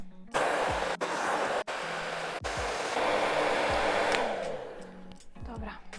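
A hair dryer fitted with a diffuser blows loudly and steadily while drying hair, its roar briefly cutting out a few times and shifting as it moves.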